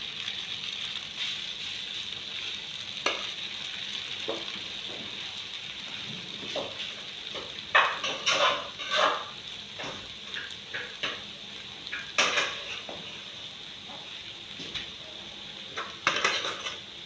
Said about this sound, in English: I'm going to fry it.